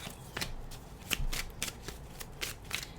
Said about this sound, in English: I'm going to shuffle a little bit from one of my favorite decks right now, the Mom Tarot.